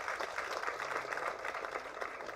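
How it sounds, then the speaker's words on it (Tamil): Audience applause at a Tamil movie trailer and audio launch event, faint, dense clapping from a crowd heard at a distance, steady for a couple of seconds. "அந்த மாபெரும் கலைஞருக்கு ஒரு கைத்தட்டல் அமோகமாக எல்லோரும் கொடுங்க"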